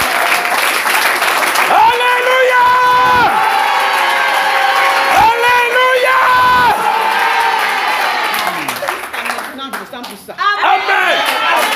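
A church congregation claps together during a worship service, a dense, steady wash of applause with cheering voices and sustained sung or shouted tones riding over it, loud and close throughout.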